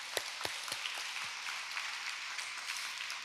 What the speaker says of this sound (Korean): 수고의 박수를 부탁드리고 싶습니다